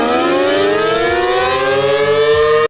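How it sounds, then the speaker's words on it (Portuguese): A loud riot siren in a video game wails continuously, a rising civil-defense style tone holding steady near and alone before cutting off abruptly. "Sirene de tumulto"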